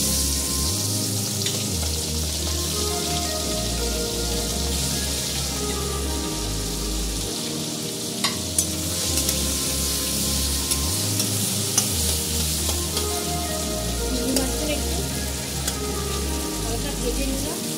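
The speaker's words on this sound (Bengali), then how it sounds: "আমি চিংড়ি মাছগুলো ছেড়ে দেবো।" Prawns fry with a steady, loud sizzle in a pan for Bengali chingri macher kalia, the hiss continuing throughout with occasional stirring clinks.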